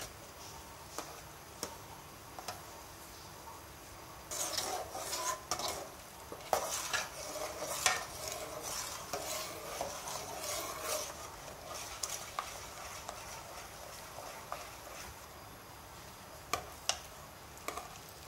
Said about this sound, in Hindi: फौरन ही मिक्स करेंगे और साथ साथ चम्मच चलाते रहेंगे